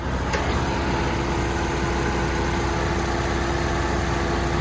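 A 2004 Saturn Ion's four-cylinder Ecotec engine runs at a steady idle under the open hood, a constant close hum with a faint click near the start.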